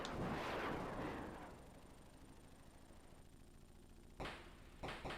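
Gunfire and rocket blasts in a Sega Genesis Mini 2 game, a heavy booming burst that fades over a few seconds, followed by two sharp cracks near the end.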